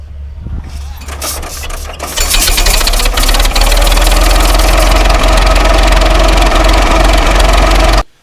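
An old engine is hand-cranked and fires up, with a few uneven thumps before it catches into a loud, steady, chugging run that carries on for several seconds and then cuts off abruptly.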